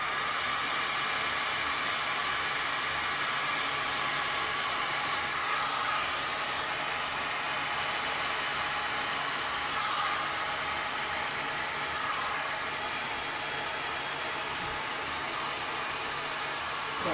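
A heat gun or hair dryer blows hot air over a fresh resin art pour on a 12 by 24 inch canvas, a loud, continuous, even hiss that runs nearly unchanged from start to finish.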